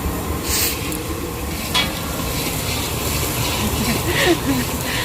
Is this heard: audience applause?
no